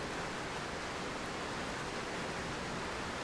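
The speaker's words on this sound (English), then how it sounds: "simply noticing the sound of the rain" Rain falls on a garden as a steady, even hiss that holds without change from start to finish, with no voices.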